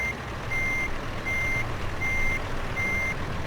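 Reversing beeps from a truck backing up a trailer in American Truck Simulator: five evenly spaced electronic beeps repeating over a low engine idle, with no talking.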